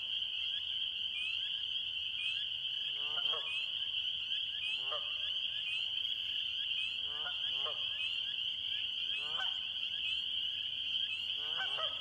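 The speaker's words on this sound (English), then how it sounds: "And that direction, that's a pair of geese." A pair of geese honk in a marsh, several short nasal honks spaced irregularly at moderate distance over a constant high chorus of frogs, with a voice briefly audible.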